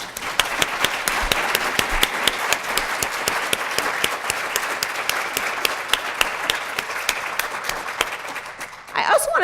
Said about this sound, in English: Will you join me in applauding them?